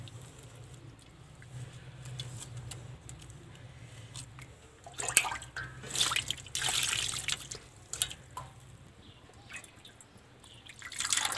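Cold tap water drips and runs while eggplants are washed in a home kitchen, quiet trickles giving way to louder splashing bursts and patter near the middle.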